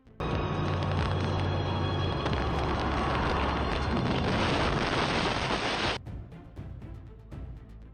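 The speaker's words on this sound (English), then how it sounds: "a large explosion occurred, causing flames to burst violently" A loud, sustained roaring blast of a plane crash explosion with crackling noise fills the clip, then cuts off sharply into a quieter rumbling tail.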